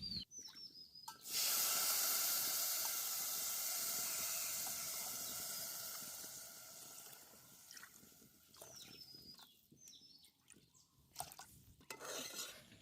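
Water poured onto fried rice in a pot for Bengali Basanti pulao sets off a loud, sustained steam hiss that slowly fades over several seconds, followed by faint clinks of utensils.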